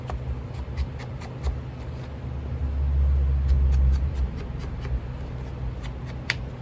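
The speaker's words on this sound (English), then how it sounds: "have been an awful lot of trucks going in and out the neighborhood today" Trucks driving in and out of a residential neighborhood: a faint, distant low rumble that swells in the middle and fades, beneath close paper rustles and light taps from desk crafting.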